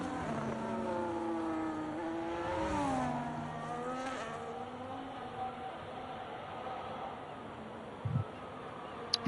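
Race car in a Revolution T3 series session at Abu Dhabi braking into the tricky turn 6–7 chicane, engine note falling and shifting as it slows, fairly faint and distant against a steady background hiss.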